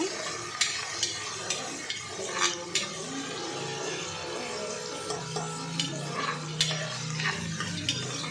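Ingredients fry in a pan for tomato bath, a steady moderate sizzle with occasional light taps and scrapes of a spoon against the pan, close by and without talking.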